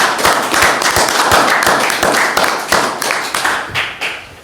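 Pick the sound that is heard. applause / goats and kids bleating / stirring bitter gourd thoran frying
applause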